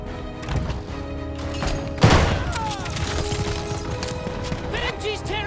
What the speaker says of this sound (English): The MG's tearing this place apart!